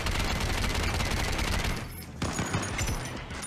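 Rapid automatic gunfire in the VR game Gambit, loud and continuous, briefly dropping out then resuming with distinct heavy shots.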